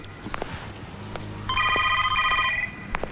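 A telephone rings with a bright electronic trill midway, following some quiet clatter and faint background sounds; no speech.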